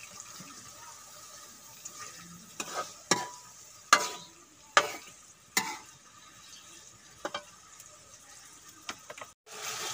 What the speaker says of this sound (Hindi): और इसको खूब तलेंगे, पकाएंगे मिसाले में।